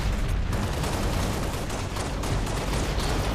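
Dense, continuous gunfire from the Halo Reach video game, a steady loud barrage of overlapping shots and booms with no pauses across the whole stretch.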